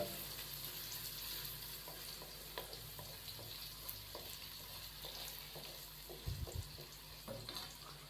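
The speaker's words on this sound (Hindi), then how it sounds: "तो अभी हम गाजर को 1 से 2 मिनट फ्राई कर लेंगे" Carrots frying in a pan over medium flame for a vegetable macaroni dish, a soft continuous sizzle with light stirring scrapes and a few clinks, fairly quiet and steady throughout.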